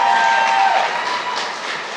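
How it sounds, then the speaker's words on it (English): Audience applause at a White House reception honoring Native American heritage, a steady broadband clatter of many hands that is loud at first and then eases slightly over two seconds, with no talking over it. "yes, we can clap for that"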